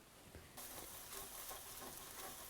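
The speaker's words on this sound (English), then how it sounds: "chopped garlic and a little bit of chopped red pepper, the dried pepper flakes, and stir it up" Chopped garlic and dried red pepper flakes sizzle in a pan while being stirred, a steady soft frying hiss that swells suddenly near the start and carries faint scraping under it.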